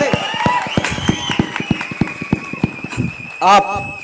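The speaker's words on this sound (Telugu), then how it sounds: "గట్టిగా చప్పట్లు కొట్టాలి" An audience at a Telangana folk singer's event claps in quick, steady rhythmic beats, loud and close, while a voice and tones carry on underneath; a louder burst swells near the end.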